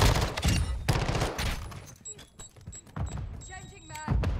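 Bursts of X13 SMG fire in Call of Duty MW2, rapid automatic shots layered with game effects and a speaking voice, trailing off into quieter in-game sounds before another burst.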